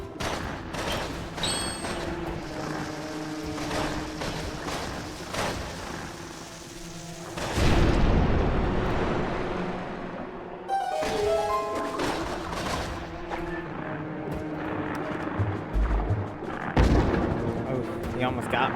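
A bomb goes off in The Legend of Zelda: Twilight Princess HD, a loud booming blast around the middle that rolls out over game music and other effects, with a second burst of impacts near the end.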